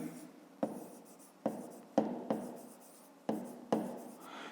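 A pen writes a math formula by hand on paper, producing a series of about seven scratchy strokes that each start sharply and fade, close and distinct, with no voices.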